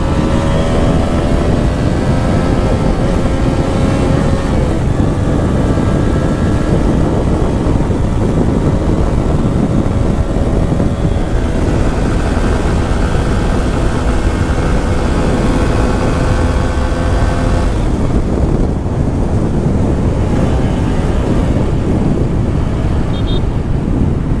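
A TVS Apache RTR 160 4V motorcycle with its service overdue pulls hard at speed on an open road, the engine drone climbing through gears under heavy, steady wind roar.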